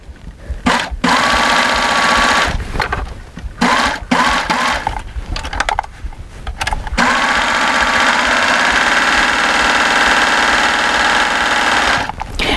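A serger sewing machine stitches binding around the edge of a quilt, a loud, close mechanical whir running in long stretches broken by short pauses, with no talking.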